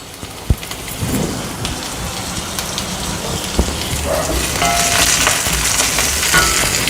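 Onions and curry leaves sizzle and crackle in a hot pan while cluster beans gravy is prepared, a steady close hiss with brief pops and a couple of sharp spatter bursts, no voices.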